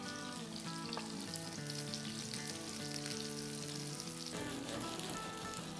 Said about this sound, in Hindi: 3-4 मिनट और फ्राई कर लेंगे उलट पुलट के